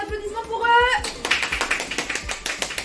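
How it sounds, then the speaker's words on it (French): A small crowd applauds a startup business game jury, the scattered clapping building after a brief stretch of talking and continuing as sharp, uneven claps close by. "Un tonnerre d'applaudissements pour eux"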